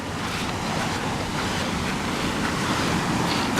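Surf on Marloes Sands, a remote Pembrokeshire beach in Wales, with the tide going out: a steady, loud broadband wash of waves mixed with wind buffeting the microphone, continuous with no speech.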